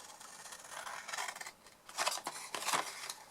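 Scissors cutting Warmth and Cheer designer paper for a chocolate box, close up, with two longer soft snipping passes followed by two sharper, louder cuts, no voices.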